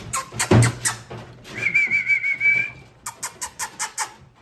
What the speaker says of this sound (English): I like to whistle so that way they know it's time to eat.